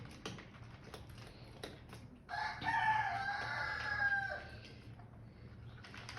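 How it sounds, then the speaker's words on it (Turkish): A rooster crows once, loud and drawn out, among chickens being fed, over scattered tapping and faint background noise. "Tavukların karnını doyurduk."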